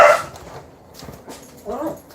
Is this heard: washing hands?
no